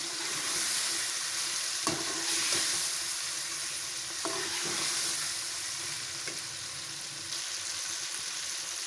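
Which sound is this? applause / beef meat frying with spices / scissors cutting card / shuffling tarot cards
beef meat frying with spices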